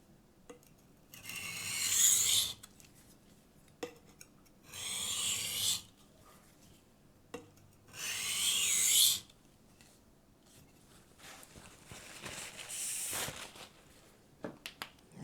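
Kitchen knife being sharpened by hand on a diamond stone: a few long, loud rasping strokes separated by short pauses, then softer, lighter passes near the end.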